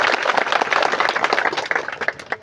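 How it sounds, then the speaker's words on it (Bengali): A crowd at a football training program inauguration in Bangladesh claps loudly and steadily for a couple of seconds, a close, dense patter of many hands with no speech over it. "হাততালি দিতে চাই বদরে"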